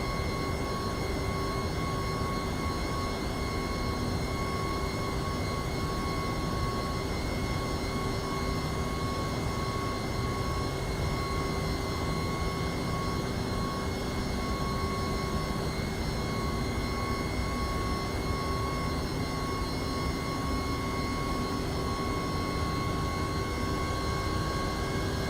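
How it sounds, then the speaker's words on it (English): Jet engines of an MD-11 airliner in the X-Plane 12 flight simulator, with two engines already running as a third is started; a steady, dense whine and roar with tonal hums holds at an even level for the whole stretch. "So we've got engines 2 and 3 up running. Let's start number 1."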